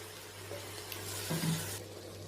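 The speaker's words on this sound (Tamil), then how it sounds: "சிறிதளவு தண்ணி சேர்த்துக்கலாம்." A short, soft pour of water splashing into a pan of chopped spinach, faint and close, over a steady low hum.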